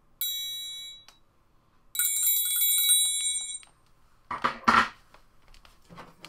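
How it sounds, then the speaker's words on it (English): An orchestral triangle is struck twice, each strike a bright, shimmering ring that sustains for about a second. Some brief metallic clattering follows near the end, and no voices are heard. "the triangle,"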